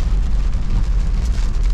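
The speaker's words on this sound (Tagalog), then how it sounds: "Yan, inuulan na tayo dito sa may Tagkawayan." Steady rain falling on a vehicle during a road trip through Tagkawayan, a dense, loud continuous hiss of drops over a low road rumble.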